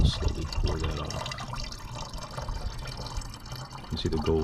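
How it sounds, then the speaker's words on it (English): Liquid is poured slowly out of a glass beaker during gold recovery from gold-filled eyeglasses, a soft, steady trickle with faint drips and no talking. "Just slowly pour that off."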